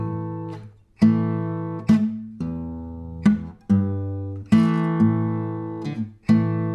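Bass guitar plays a slowed-down blues groove on the offbeats, with about nine plucked notes that each swell and decay in a steady loping rhythm. The notes are clear, close and alone.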